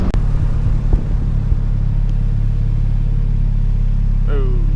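A turbocharged Honda Civic with a bumper-exit wastegate: a loud, close, steady low engine and exhaust drone that holds through the clip. A brief squeaky sound comes near the end.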